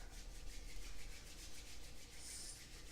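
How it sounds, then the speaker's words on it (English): A pair of hands rubs briskly together during a seated yoga warm-up, a soft, steady, close friction swish that carries on for a few seconds with no talking. "bring our hands together and we'll just rub them together"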